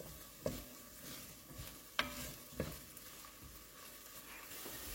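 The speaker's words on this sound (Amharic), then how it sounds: "ከዘይቱ ጋር ደግሞ ትንሽ እናበስለዋለን።" Soft sizzle of onion frying in a little oil, punctuated by three sharp clinks of a spoon stirring against the pan.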